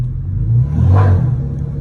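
A car engine with a Mopar air intake, Super 10 mufflers and a resonator delete revs up, rising to a throaty peak around the middle and easing back down, loud and close.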